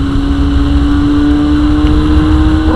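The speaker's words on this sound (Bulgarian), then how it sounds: "Просто това е перфектно моторче." A small motorcycle engine runs steadily close by on a ride toward Chepelare, holding a continuous, even drone with a constant pitch and no pauses.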